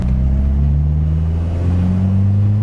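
Mitsubishi Eclipse, long abandoned, driving along with a steady low engine rumble and droning exhaust, close and loud throughout, the pitch holding nearly constant.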